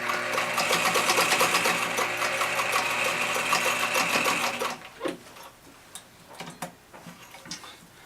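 A portable free-arm sewing machine runs in a rapid, steady stitching rhythm for several seconds, then stops, leaving light clicks and handling noises.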